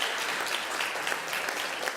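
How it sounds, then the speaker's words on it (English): Brief burst of audience applause at a public forum held on the eve of a Ukraine recovery conference, dense steady clapping from a crowd filling the whole moment with no speech. "Could you please give them a round of applause for making this happen?"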